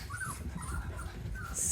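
Young puppies whimper and whine softly in a string of high, thin cries, heading outside down the stairs to a new outdoor play area, over a steady background hum.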